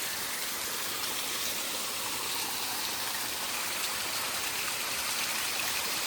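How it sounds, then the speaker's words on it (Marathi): Water running down from the hills toward a farm field makes a steady, even rushing flow, moderately close and with no talking over it. "जे शेतात पाणी नेलं आहे आम्ही म्हणजे वरतून डोंगरातून, ते हे बघा इथूनच येतं पाणी"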